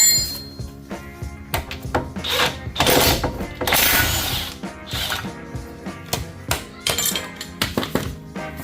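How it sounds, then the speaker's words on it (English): Metal clanks, knocks and ratcheting come from freeing the lower ball joint on a totaled 2016 Ford Escape 2.0 turbo, with a series of close, irregular impacts and mechanical clatter. "let's pop this lower ball joint loose"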